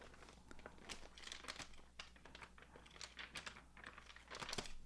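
Crinkly, stiff pages of a reference book flipped and handled up close, a quiet run of papery crackles and rustles with irregular sharper snaps, no voice.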